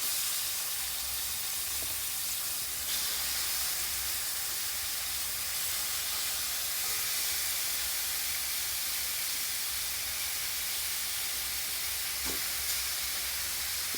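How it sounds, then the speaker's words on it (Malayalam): Marinated chicken shallow frying in a pan gives a steady, dense hiss and sizzle throughout, even and fairly loud, close up and without voices. "ഒന്ന് ശാലോ ഫ്രൈ ചെയ്യാം."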